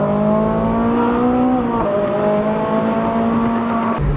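Ferrari 458 engine revving loudly and close up, its steady harmonic drone climbing in pitch, dipping briefly, then rising again before cutting off sharply near the end; no talking.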